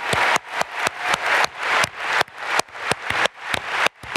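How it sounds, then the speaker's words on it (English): A live audience at a talent event claps in a steady, fairly loud patter with sharp individual claps repeating through about four seconds, no voices over it. "Can we get one more round of applause for John Bogues,"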